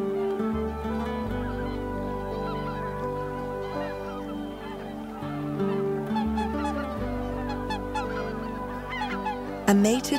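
A mated pair of swans call back and forth at Lake Miyajima in Hokkaido, Japan, a steady stream of loud, overlapping honking notes with other waterfowl calling around them.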